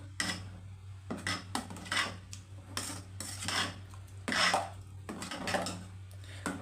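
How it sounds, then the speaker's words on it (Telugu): Jaggery payasam in a pot, with sugar and cardamom powder added, stirred with a metal spoon: repeated scraping, clinking strokes in an irregular rhythm, close and fairly loud over a steady low hum. "చూడండి ఒకసారి కలుపుకుందాము"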